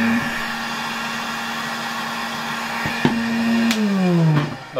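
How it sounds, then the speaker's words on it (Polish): A 1964 Gamma II vacuum cleaner runs with its hair dryer attachment on a workbench, giving a steady loud motor whine that dips in pitch near the end as it slows, with a couple of clicks. "sprawdzimy też działanie tego odkurzacza z suszarką do włosów"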